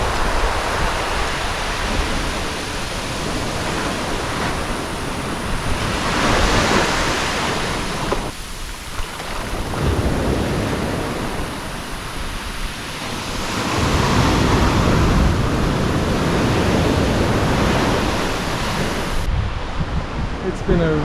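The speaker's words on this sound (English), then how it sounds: "The waves are big before. There's some big breakers." Big ocean breakers crash and roar continuously along a Costa Rica beach, loud broadband surf rising and falling in long surges over about twenty seconds.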